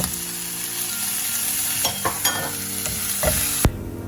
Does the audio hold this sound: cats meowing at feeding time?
no